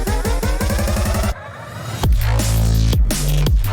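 In a drum and bass mix, a rapid, stuttering pulse of hits gives way to a short dip, then a heavy reverb-drenched movie stomp kick swells and lands into the drop with booming low-end thumps.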